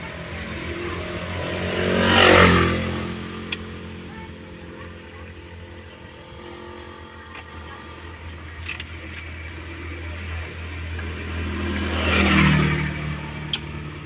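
Steady roadside traffic rumble with two louder passing vehicles swelling and fading, one early and one near the end, with faint distant sounds in between.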